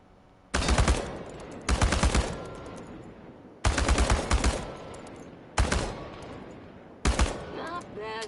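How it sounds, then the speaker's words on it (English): Bursts of automatic rifle fire at tin cans on a shooting range in the game Chernobylite, five loud, close volleys of rapid shots separated by brief pauses, with ringing impacts and no talk. "The biggest challenge is compensating for recoil in automatic firing mode"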